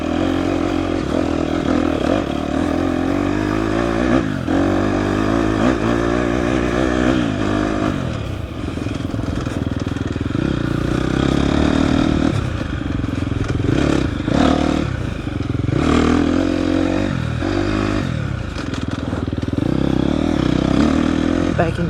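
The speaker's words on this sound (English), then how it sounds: "Downshift to second for this hill." A 2024 KTM 250 XCF dirt bike climbing a hill in second gear on an offroad trail in Texas, its engine a loud, steady close drone throughout with rattles and scrapes, and a voice talking over it at times.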